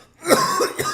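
A person coughs or clears their throat in a few short rough bursts, close and fairly loud, with no speech.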